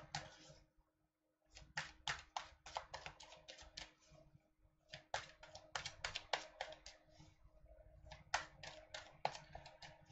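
Tarot cards are shuffled in quick bursts of crisp, rapid flicking clicks, close and fairly soft, with brief pauses between runs.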